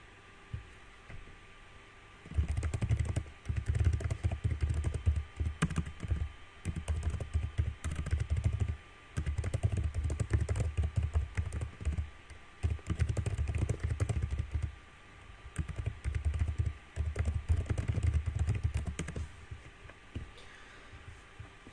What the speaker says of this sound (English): bad keyboard ASMR. Yes, because I'm like furiously typing